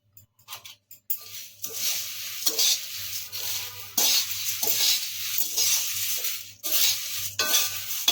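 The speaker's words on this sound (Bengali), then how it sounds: "অনবরত নাড়তে থাকবো পুরো চিড়েটাই দেবো কিন্তু আস্তে আস্তে দেবো" Flattened rice (chira) spiced with turmeric is stirred in a hot pan over a constant sizzle and frying crackle, with repeated close scraping strokes of the spoon against the pan at an uneven rhythm.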